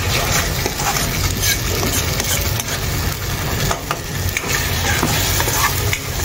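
Masala sizzles in hot oil while being stirred for a squid (makali) recipe, a close, continuous crackling fry with scraping stirs throughout.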